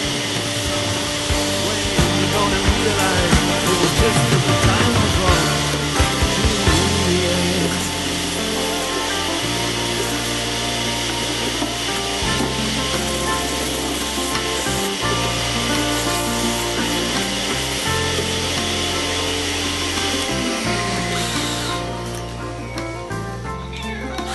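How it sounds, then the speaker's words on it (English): Sanding the bottom of a home-made resonator guitar body, a steady, loud abrasive rasp with a continuous machine-like drone running unbroken for the whole stretch. "We're also sanding the bottom of the guitar"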